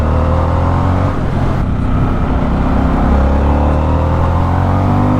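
A 2024 Harley-Davidson Sportster S motorcycle engine pulls hard under steady acceleration on the road, a loud continuous roar with rising harmonics and constant wind noise throughout.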